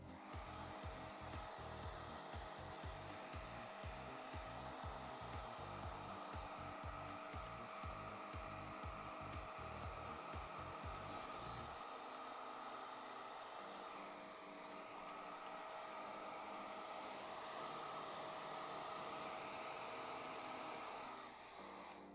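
A powerful dog grooming dryer roars steadily and continuously while drying a Golden Retriever's coat, with a pulsing low rumble for the first half that smooths into an even rush of air.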